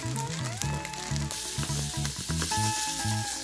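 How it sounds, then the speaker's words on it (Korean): Rice with drained canned tuna, egg and leftover vegetables, seasoned with oyster sauce, is stir-fried in a pan, giving a steady close sizzle with stirring under background music. "밥을 넣고 뭉친 밥알이 없도록 볶아주세요."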